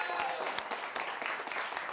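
An audience at a Disney Lorcana game stream claps in a steady burst of applause, with voices mixed into the crowd noise.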